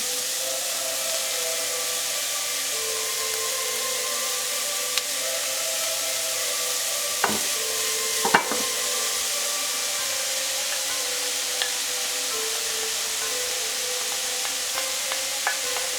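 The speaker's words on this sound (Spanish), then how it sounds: "Empezamos por sofreír las verduras." Vegetables being sautéed in a pan for a vegan stuffed-pepper dish give a steady, moderate sizzle throughout, with a few faint clicks and scrapes near the middle and no talking.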